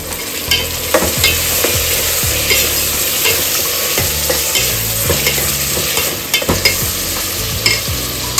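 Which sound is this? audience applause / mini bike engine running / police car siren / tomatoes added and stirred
tomatoes added and stirred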